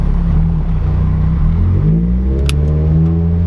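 Mazda Miata engine accelerating hard through second and third gear without nitrous, a loud close roar climbing in pitch, dipping briefly at the shift, then climbing again.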